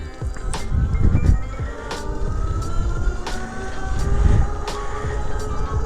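An Aventon Sinch e-bike pulls away from a stop on thumb throttle in its highest assist mode, its motor whine holding steady tones over a constant rush of wind and road rumble.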